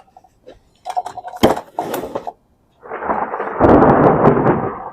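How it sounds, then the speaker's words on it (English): Thunder cracks and rumbles as a rainstorm approaches: a few sharp bursts, a short quiet gap, then a long loud rolling rumble building toward the end. "You heard that thunder?"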